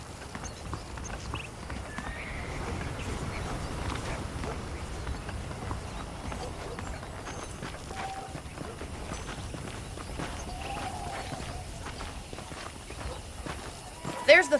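In the Red Dead Redemption video game, horse hooves clip-clop in a continuous walking rhythm at low level, with a faint whinny and people speaking over the hoofbeats.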